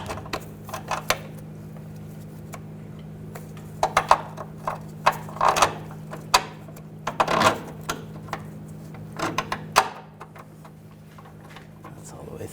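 Ratchet threading a bolt through a rear upper control arm on a 2007-2013 BMW 328i: scattered metallic clicks and short ratcheting bursts, near and fairly quiet over a steady background hum.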